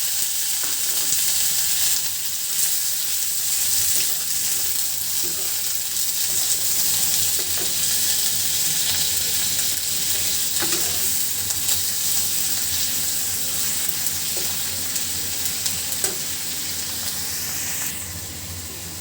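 Chopped onions and salted hilsa fish fry in hot oil, a steady, hissing sizzle that fills the whole stretch, with occasional soft stirring clicks and no talk.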